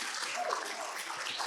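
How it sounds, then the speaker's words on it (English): An audience applauds at a business event, a brief, moderately faint wash of steady clapping heard from some distance. "give them a round of applause"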